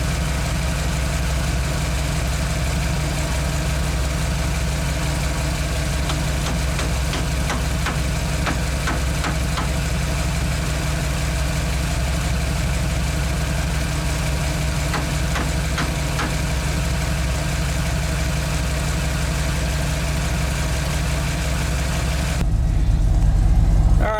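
A 1985 Ford F150 truck engine idles steadily and loudly at operating temperature for a long stretch, a constant low rumble with a faint ticking, swelling slightly near the end.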